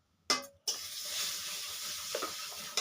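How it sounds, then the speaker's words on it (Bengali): Bitter gourd frying in oil with chili, a loud hiss of sizzling that starts after a couple of stirring clatters and carries on steadily, with a brief knock near the end. "উচ্ছা ভাজা হয়েছে, লঙ্কা দিয়েছি।"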